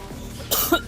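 A short, close cough, a couple of quick harsh bursts in quick succession over a faint background hum.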